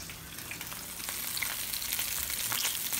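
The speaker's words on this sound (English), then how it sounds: "We got a couple more pieces frying in the frying pan." Steady crackling sizzle of timber rattlesnake pieces frying in a pan, a continuous hiss with small pops, close up and no voices.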